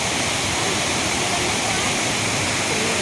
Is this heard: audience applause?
no